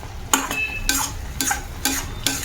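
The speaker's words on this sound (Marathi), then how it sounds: "तूप टाकायचं, 1 मिनिटभर परतायचं आणि झाकून ठेवायचं." Masala amla pieces are stirred with a spoonful of ghee in a hot pan, with five sharp, regular scrapes of a spatula against the metal over a gentle background sizzle, loud and close.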